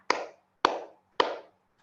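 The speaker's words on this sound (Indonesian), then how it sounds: "Tepuk 1. Tepuk 2. Tepuk 3." Three sharp, evenly spaced claps from a group at a facilitation training session, each a crisp burst with a short decaying tail.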